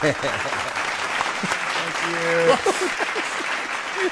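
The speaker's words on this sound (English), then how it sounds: "There's that last clap." Applause from a crowd runs steadily underneath as people talk and a laugh-like voice rises briefly near the middle.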